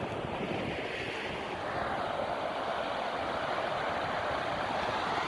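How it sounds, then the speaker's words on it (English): Oxygenated minewater flowing and splashing at the Bates minewater treatment site in Blyth beside the River Blyth, a steady broadband rush with no break, like surf or wind, heard alone without talk. "That's oxygenation process."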